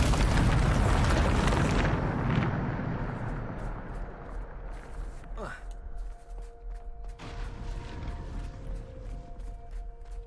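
A Bombarda blasting spell detonates in a Harry Potter video game, a loud roaring explosion that opens the clip and slowly decays into rumbling debris, followed by a quick rising whoosh and faint lingering tones.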